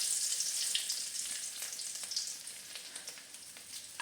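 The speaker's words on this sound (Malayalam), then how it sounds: "നമുക്ക് ഒരു ശകലം വെളിച്ചെണ്ണ ഒഴിച്ചു കൊടുക്കാം. അതിലേക്ക് ഒരു 4 അല്ലി വെളുത്തുള്ളി ഇട്ട് കൊടുക്കാം." Four garlic cloves frying in a little hot coconut oil in a pan, a bright, steady close-up sizzle that eases slightly toward the end, with no talking.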